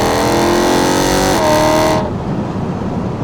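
A BMW E92 M3 engine revs hard and loud up close, its high-pitched wail holding steady, shifting briefly, then cutting off abruptly to a low idle rumble.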